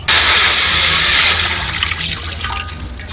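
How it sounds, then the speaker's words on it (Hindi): A litre of water pours into a wok on a lit village stove, making a loud, steady rushing splash that lasts over a second and then settles into softer trickling and bubbling. No one talks. "सबसे पहले 1 लीटर पानी शामिल करेंगे।"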